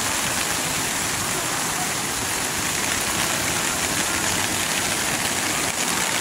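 Rain falls steadily during a stormy evening sky-lantern release in Pingxi, a dense, unbroken hiss of drops on surfaces that stays loud and even throughout with no distinct voices.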